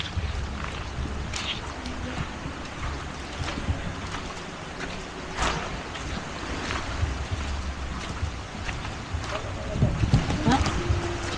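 A large motorized boat out on open water, its low engine rumble steady beneath wind buffeting the microphone and the wash of waves, with people talking over the noise.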